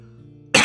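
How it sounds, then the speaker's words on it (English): A single sharp cough bursts out after a stretch of quiet low hum and holds loud to the end. "Sorry about all the coughs, by the way."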